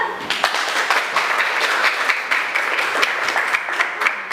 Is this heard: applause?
yes